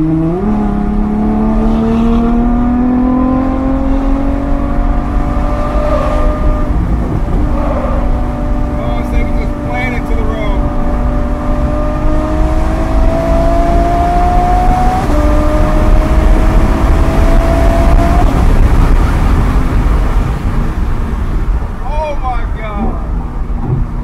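A straight-piped Ferrari F12 drives and accelerates hard, its engine note climbing steadily through repeated gear pulls with brief dips at each shift, loud and close throughout the whole stretch.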